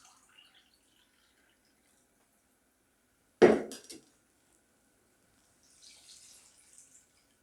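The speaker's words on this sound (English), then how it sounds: "Now I am going to add around 1 cup of water" Water poured into thick chickpea flour dhokla batter: a single short splashing pour, close and fairly loud, set in otherwise near silence with a few faint clinks afterward.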